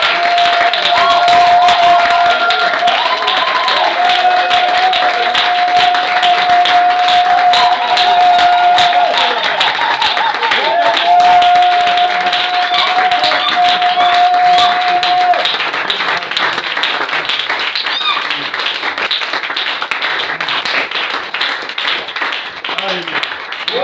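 A church congregation applauds and cheers in sustained acclamation for a pastor, a dense wash of clapping and voices running throughout, with a steady held tone from music or a voice threaded through the middle.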